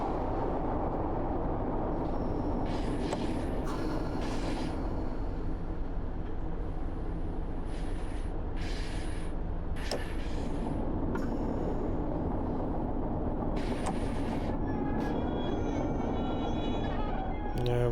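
A simulated train on the Riviera Line from Exeter to Plymouth in Train Sim World 6 rumbles steadily while braking toward a stop, with broad rolling noise and repeated high brake squeals and hissing bursts, close and continuous.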